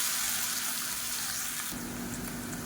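Three medium-size large onions, finely chopped, go into hot oil with curry leaves and give a loud, steady, close sizzle that shifts and roughens partway through as the pieces settle.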